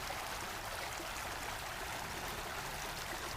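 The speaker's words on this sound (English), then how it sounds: "that stream comes out over this way, and then it heads down to the river" A small stream near maple trees flows toward a river, giving a faint, continuous babble of running water with no other sounds.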